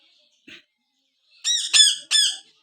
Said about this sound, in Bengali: তোটা চিৎকার করছিল